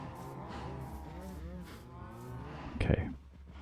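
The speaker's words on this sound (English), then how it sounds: "So many cows." A crowd of cows mooing in the Minecraft video game, several overlapping low calls forming a steady herd murmur, with a short louder knock near the end.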